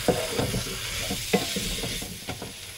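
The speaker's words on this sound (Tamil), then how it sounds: "இப்போ நான் வந்து கத்திரிக்காய் ஆட் பண்ணுறேன்" Eggplant and drumstick pieces frying in hot oil for a South Indian lentil curry, giving a steady close sizzle with several stirring scrapes of the spoon against the pan.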